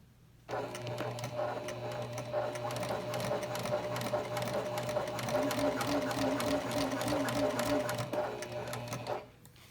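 A Janome HD9 sewing machine stitches through two layers of vinyl, two of cotton and a layer of flex foam, a steady rapid mechanical whir that starts abruptly, holds for about nine seconds, then stops.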